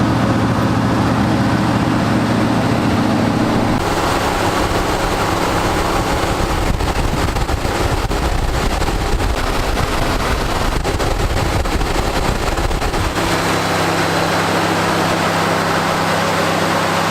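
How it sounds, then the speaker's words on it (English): A Fox Body Mustang, with a brake fluid leak onto the valve cover and exhaust manifold, idles as it warms up: a continuous, loud, close rumble that holds steady throughout, with no talking. "just gonna let the thing sit and idle for a while"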